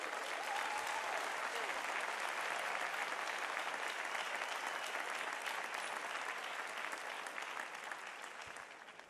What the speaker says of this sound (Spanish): Un aplauso para los obispos